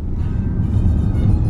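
A Range Rover drives along a Scottish road, heard from inside the cabin as a steady, close low rumble of engine and tyres.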